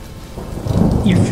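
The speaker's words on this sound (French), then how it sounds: "Un puissant coup de tonnerre éclata quelque part au nord." Loud clap of thunder rolling in over steady rain during a thunderstorm, the rumble swelling and holding strong to the end with no voices.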